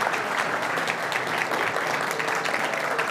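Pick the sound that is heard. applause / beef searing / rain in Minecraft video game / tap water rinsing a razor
applause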